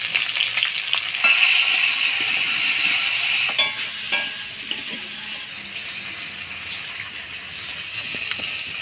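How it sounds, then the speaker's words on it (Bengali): Eggplant frying in oil in a pan gives a steady, loud, close hiss and sizzle with occasional stirring clatter, easing slightly in the second half. "বেগুন গুলা হালকা ভাজিয়ে নিলাম, এবার তুলে নিব।"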